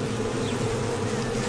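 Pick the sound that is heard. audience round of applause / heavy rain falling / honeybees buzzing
honeybees buzzing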